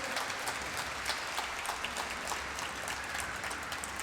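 Audience applause at a gala concert, a steady, even wash of many hands clapping throughout, moderately distant with no voices over it.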